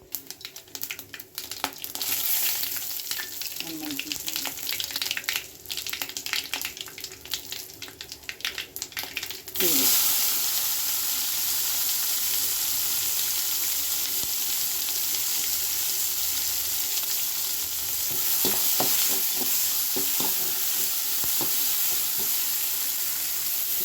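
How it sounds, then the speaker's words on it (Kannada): Mustard seeds pop and splutter in a little hot oil in a sambar pot, a steady close sizzle with scattered crackles that starts busy and settles into a continuous hiss. "ಸಾಸಿವೆ ಸಿಡಿಲಿ"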